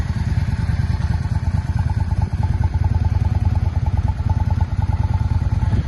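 A Yamaha Drag Star 650 V-twin motorcycle idles cold on choke, a steady, even, rapid low thumping that stays close and constant with no talk.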